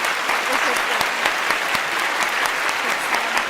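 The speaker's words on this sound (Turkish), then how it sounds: "Bence bir alkışı da hak ediyorlar yani." A studio audience on a Turkish game show applauds, a thick continuous wash of clapping with a few louder hand claps standing out, and no talk on top.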